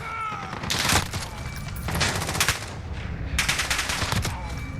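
MK 14 EBR rifle shots in Call of Duty Modern Warfare, several loud sharp cracks spaced about a second apart, each with a ringing tail, over steady game background noise.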